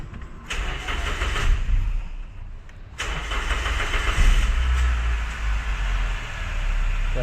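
A car engine cranking and firing during a basic car service, with two starter bursts followed by the motor catching and settling into a steady idle rumble, close and fairly loud.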